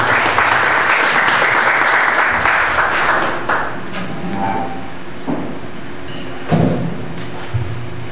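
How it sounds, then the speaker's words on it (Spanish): Audience at a legal lecture by the Lima Bar Association welcomes a speaker with strong applause that starts loud and dense, then thins to scattered claps, a few bumps and shuffles by about four seconds. "Recibamos pues con un fuerte aplauso"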